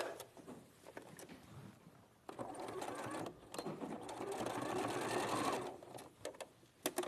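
A sewing machine runs in steady bursts as it stitches two fabric pieces together, right sides facing, with short pauses between runs and a faint voice in the background.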